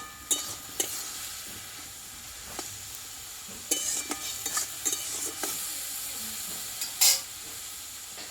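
Red amaranth greens with soft potato are cooked in a pan while a utensil stirs them, with a soft steady sizzle broken by irregular scrapes and clinks against the pan.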